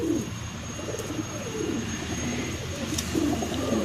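Andhra pigeon cooing close by in a series of soft, low, rolling coos that repeat steadily over a constant background hiss, with no talk.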